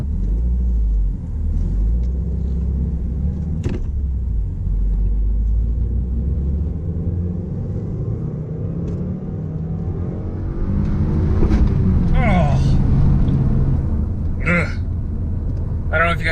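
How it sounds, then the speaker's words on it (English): Gear grinding while shifting into third in a 2015 Subaru WRX, a brief harsh mechanical rasp rising over steady engine and road rumble inside the car, with a few sharp crunches toward the end. "that was third gear grinding"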